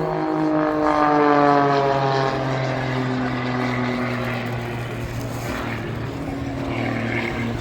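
Pitts Special aerobatic biplane at an air show, its propeller engine droning loudly and continuously with a shifting pitch as it manoeuvres overhead, no voices over it.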